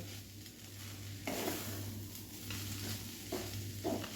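A grated coconut mixture stirred in a pan over a medium flame, soft scraping swishes of the spoon recurring every second or so over a quiet low sizzle and steady hum, with no talk.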